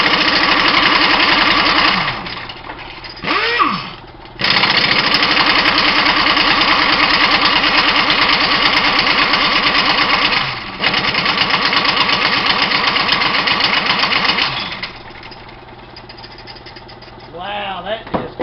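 An engine, part of a teardown project, starts up and runs loudly with a steady, rough roar, broken by a few brief drops where someone speaks.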